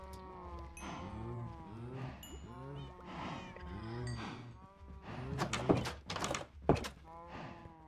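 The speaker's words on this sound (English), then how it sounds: "you can hear the cows really loud from here" Cows in the Minecraft video game mooing loudly and close by, several drawn-out overlapping moos following one another across the whole stretch.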